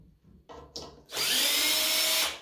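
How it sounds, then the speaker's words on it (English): Power drill backing a screw out of a handmade wire dragonfly decoration, with a few short clicks and bumps, then a loud, close, steady whir lasting about a second before stopping. "I just take that top screw back out again"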